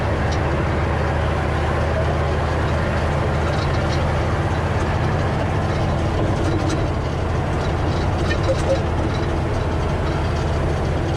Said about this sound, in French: J'aime bien entendre le bruit du moteur.